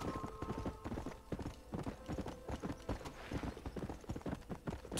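Horses gallop in Red Dead Redemption, a dense, rapid drumming of hoofbeats with a neigh early on, close and loud, and no voice over them.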